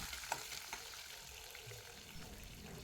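Dried red and green chillies fry in oil, giving a faint, steady crackling sizzle with a few small pops and stirring clicks near the start.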